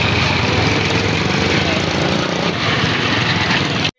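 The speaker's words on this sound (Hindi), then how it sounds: "होए चाचे का मोटरसाइकिल देखो" A motorcycle engine runs close by, a loud, steady, rough drone that holds for about four seconds and then cuts off abruptly.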